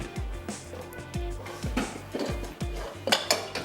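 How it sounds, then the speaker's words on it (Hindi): A wok is handled on a kitchen counter: a series of close metallic clunks and knocks, roughly twice a second, with some lighter clinks of cookware and no speech. "मैं यहाँ से एक अदद वोक ले लेती हूँ"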